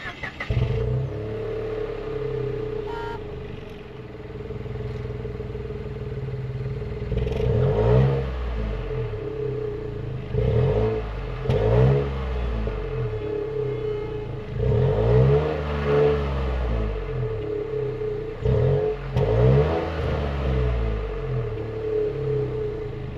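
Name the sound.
Nissan Rogue turbocharged 3-cylinder engine at the exhaust pipes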